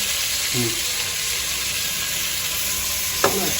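Tomatoes go into a hot pan of fried ingredients, giving a steady broadband sizzle throughout, with a brief clatter of stirring near the start and another short burst near the end.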